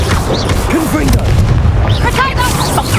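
Confringo explosive spell in Hogwarts Legacy going off as a loud booming blast amid busy fight effects, with a voice calling out over it.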